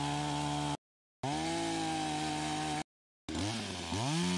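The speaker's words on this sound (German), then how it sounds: "Es ist an der Zeit, den Baum mit der Kettensäge zu öffnen" A chainsaw whines loudly in three bursts separated by brief silences, the engine pitch rising and dipping as it bites into a tree trunk during a bee nest rescue in Paraguay.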